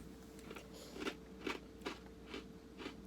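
Several crisp crunching bites, about five, spaced roughly half a second apart, close to the microphone with a faint steady hum underneath.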